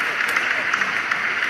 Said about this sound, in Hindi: तालियां एक बार जोरदार हो कामता माकन के लिए